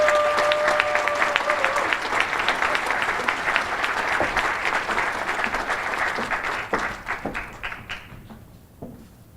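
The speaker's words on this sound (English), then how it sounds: "So give a round of applause for Superintendent Smith." A reception crowd gives a superintendent a round of applause at a mentoring rally, full steady clapping over a brief tone at the start, then thinning to scattered claps and fading out.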